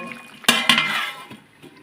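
A metal lid clanks twice onto a cooking pot while shrimp curry with potato and aubergine cooks, two sharp close clinks followed by faint rattles and kitchen noise.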